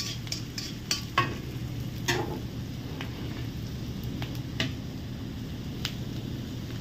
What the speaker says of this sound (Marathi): मस्त कांदा लाल होऊ देपर्यंत असं हलवत राहायचं कांदा